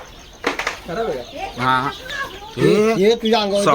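Chickens cluck and squawk loudly nearby on a farm, with a burst of wing flapping near the start and agitated calls continuing throughout.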